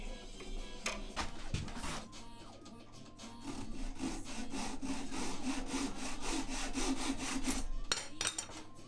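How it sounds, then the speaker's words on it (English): Hand saw cutting beech wood trim to length for a slab coffee table frame, brisk rasping strokes that settle into a steady continuous sawing rhythm, close up. "Then I could mark the trim and cut it to length."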